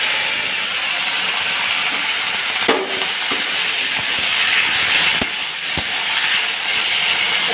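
Okra (bhindi) frying dry in a pan without oil, giving a loud, continuous hiss and sizzle of steam with occasional stirring clicks and no voices.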